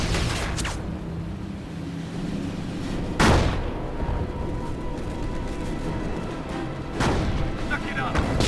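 Artillery guns firing in the WWII strategy game Company of Heroes, two heavy booming blasts a few seconds apart over a steady bed of battle ambience, with voices talking under the action.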